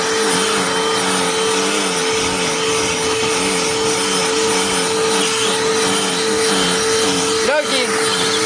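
A BLACK+DECKER Dustbuster cordless handheld pet vacuum runs continuously at close range, a loud, steady high-pitched whine with a brief change in tone near the end.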